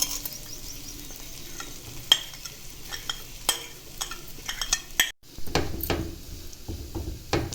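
A spoon stirs and scrapes mashed potato through chicken masala in a pan, with a soft frying sizzle beneath, steady close scraping and several sharp clinks and knocks scattered throughout.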